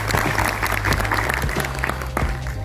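An audience at a university alumni function claps steadily, a dense, sustained round of applause from many hands with no voices over it.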